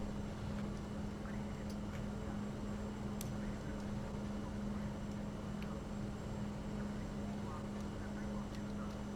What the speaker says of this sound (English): the noise is like deafening with this engine